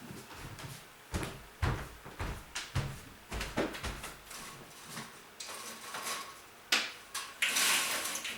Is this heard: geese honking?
no